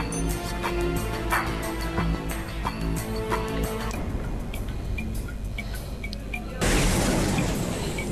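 Audio from the video game Gorky 17 with steady music and clicking effects, then a sudden loud burst of a mine exploding near the end.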